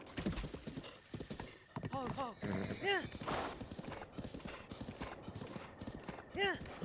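A spotted horse clip-clops in Zelda: Breath of the Wild with rapid, even hoof beats at a trot or gallop, joined by a couple of whinnies, all under steady talking.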